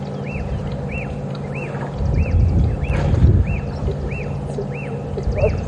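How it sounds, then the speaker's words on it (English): Birds sing at a waterhole in Djuma Game Reserve on an afternoon safari drive, a repeated rising-falling whistle call at a steady rhythm, fairly clear over a low rumble of vehicle and ambient noise. "There's some wonderful bird song this afternoon."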